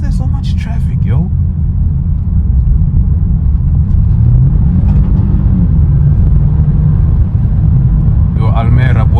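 A BMW 320i M Sport drives through traffic, its steady low engine and road rumble heard from inside the cabin throughout, with brief voices cutting in near the start and end.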